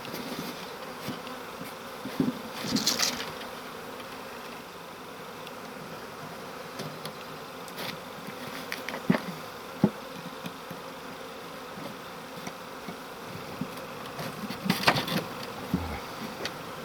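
Honeybees buzzing while being rescued from a hive lodged in the ceiling of an agricultural building, a steady low drone with brief louder bursts as bees fly close, no talk.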